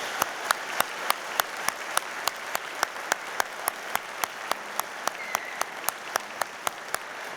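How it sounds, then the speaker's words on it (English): Audience applause at a University of Manchester graduation ceremony, a broad, even wash of clapping in a large hall with sharp, regularly spaced individual claps standing out above the crowd throughout. "let's give them a warm round of applause for all their support"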